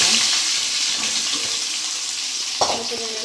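Onions frying and being stirred in ghee for a colocasia-leaf dish, a steady close sizzle with scraping stir strokes and a brief clatter near the end.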